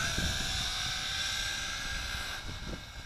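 A Tarantula X6 drone flying into the wind gives off a steady, droning rotor whine with layered tones, fairly loud and continuous, with gusty rumble underneath and a slight dip near the end.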